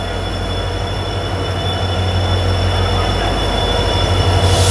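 A train rumbles past near the new Pamban bridge in India, making a steady, loud rolling roar with a constant low drone and a high whine, continuing evenly with no talk.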